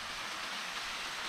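Steady, dense spray from Barasibis Falls in Lagayan, Abra, hissing like heavy rain; a continuous broadband wash close by with no pauses and no voices.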